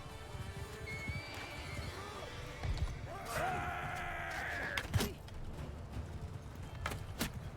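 In Mount & Blade II: Bannerlord, a horse gives a loud neigh in the middle of the clip. It comes amid hoof clops and thuds, with faint voices in the background.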